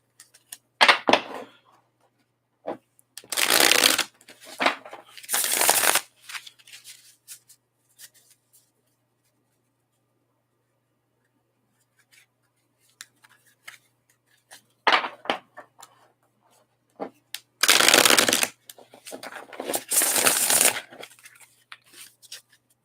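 Tarot cards being shuffled during a live reading, several short bursts of papery riffling and flicking separated by long quiet gaps.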